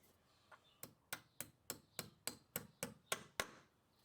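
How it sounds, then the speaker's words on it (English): A hammer taps a steel anchor bolt into a hole in the ground, ten or so sharp, evenly spaced metallic knocks in a quick steady rhythm, close and clear against a quiet background. "then tap the bolt into the hole with your hammer"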